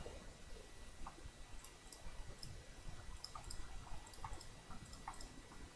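Computer mouse clicking while working in Magicavoxel voxel-editing software: a steady run of light, quick clicks repeats over a quiet background.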